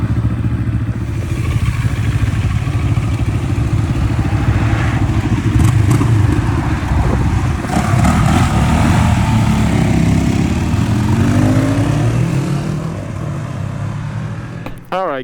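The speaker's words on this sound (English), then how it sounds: "It has a really cool parallel twin sound," Moto Morini X-Cape 649 adventure motorcycle with a parallel twin engine, a steady close engine drone running throughout at moderate level, not especially loud, with no talk over it.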